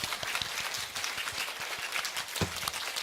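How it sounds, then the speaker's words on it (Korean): A church congregation at a Sunday worship service and evangelism festival claps warmly, a lively, moderately loud burst of many hands with distinct individual claps standing out, heard without talk. "하나님께 뜨거운 박수를 올려드리겠습니다"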